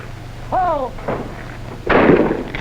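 Two shotgun blasts at skeet shooting practice, a lighter report and then a louder, sharper crack near the end, with a whistle-like tone before them.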